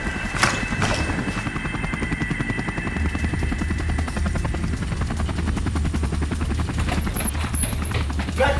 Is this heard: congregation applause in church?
no